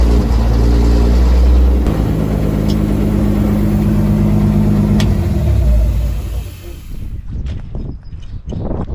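1952 Studebaker M35 2.5-ton military truck engine with a clogged air filter, a loud, close, low idle rumble that runs steadily before breaking up into uneven sputters near the end.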